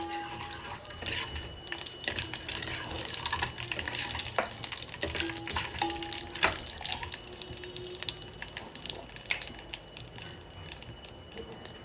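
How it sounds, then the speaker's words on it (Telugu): Fenugreek, mustard and cumin seeds splutter in hot oil, producing a continuous close crackle with scattered sharp pops and hisses throughout. "పోపులోకి 2 మెంతి గింజలు, ఆవాలు, జీలకర్ర చిట్టపట్లాడించాలి"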